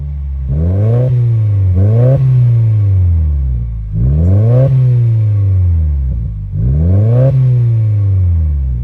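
A 2018 Subaru WRX with an aftermarket titanium-tipped catback exhaust revs hard three times, each rise climbing to a loud growling peak before dropping back to idle, close to the microphone.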